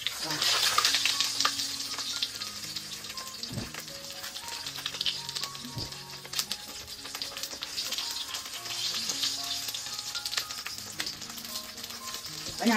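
Salty bổi fish frying in a pan gives a steady, loud crackling sizzle that runs the whole time over background music.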